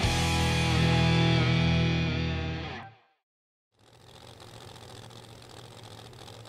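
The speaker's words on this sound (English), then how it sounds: "we got a Mike Janis supercharged Hemi built by Adam Flamhock versus a Mike Janis supercharged Hemi built by Mike Janis on the starting line right now" A supercharged Hemi Pro Mod drag car engine idles loud and close on the starting line at an Outlaw Pro Mod race, a steady rough drone that cuts out abruptly, then a fainter engine rumble resumes.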